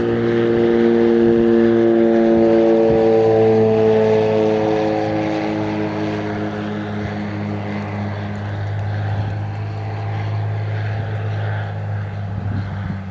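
A Cessna 185 light propeller plane taxiing at a bush airstrip in Alaska, its engine droning loudly and steadily nearby for the whole stretch, easing slightly in level partway through.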